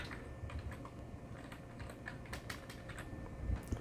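Quiet, rapid typing on a replacement keyboard hooked to a PowerMac G4, with steady clicking keystrokes close by and a couple of slightly heavier key hits near the end.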